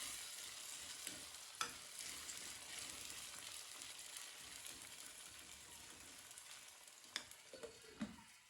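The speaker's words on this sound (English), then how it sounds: "You just keep stirring," Popcorn is stirred in a pot, giving a faint, continuous sizzling hiss with occasional soft scrapes and knocks from the spoon against the pot.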